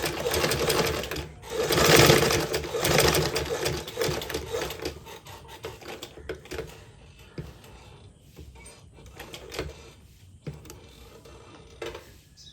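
A sewing machine runs while stitching a shirt, its loud, steady mechanical whirr peaking early and then easing into softer, intermittent running with small clicks and pauses toward the end.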